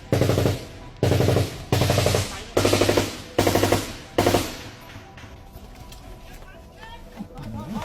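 Bursts of automatic gunfire hit hard during an armed attack on a base, with five or six loud rapid volleys close by. Quieter shouting and movement follow.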